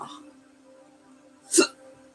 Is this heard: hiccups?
yes